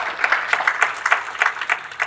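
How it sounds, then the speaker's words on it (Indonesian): Audience applause in a church sermon setting, a short burst of scattered clapping with distinct rhythmic claps, moderately loud and close, no voices over it. "Tepuk tangan."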